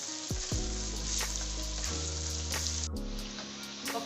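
Onions frying steadily in a kadai, a continuous loud sizzle with occasional pops and stirring scrapes, heard up close with no voices.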